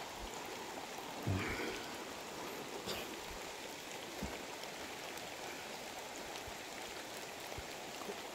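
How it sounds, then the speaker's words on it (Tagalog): Light rain patters steadily across a wide, soft hiss, with a few faint knocks and drips rising briefly above the even wash; no voices. "Medyo umuulan po mga kamigs"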